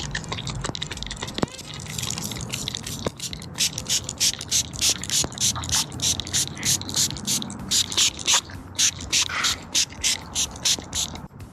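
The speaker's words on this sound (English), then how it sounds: "spray a fine mist on the paint." A series of quick, regular spritzing bursts from a spray bottle misting BMW car paint, repeating steadily at close range over a low background hum.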